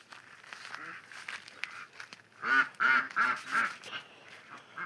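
Ducks in a backyard poultry enclosure quack nearby: a few soft calls, then a loud run of about four rhythmic quacks, with a faint voice in the background.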